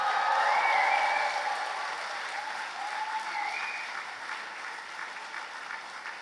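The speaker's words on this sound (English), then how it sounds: "A proper round of applause and some proper cheers," A graduation ceremony audience for the 2018 Faculty of Business and Law applauds steadily with scattered cheers. The dense clapping starts loud and eases slightly over about six seconds, with no speech.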